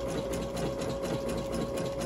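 A Brother embroidery machine runs with a steady, even mechanical hum and a constant tonal whine, moderately loud and uninterrupted, with no voices over it.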